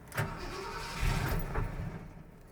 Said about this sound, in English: Now it won't start, so that's not even a better sign.